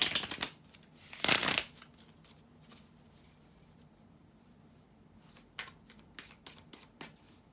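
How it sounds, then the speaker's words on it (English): Tarot cards being shuffled in quick riffling bursts, a short one then a longer louder one, followed by scattered soft card taps and flicks. "to shuffle the tarot cards"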